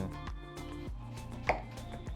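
A knife chops through peeled pumpkin for a vegan oat breakfast dish: several close, evenly spaced cuts, one landing sharper than the rest, with no voices.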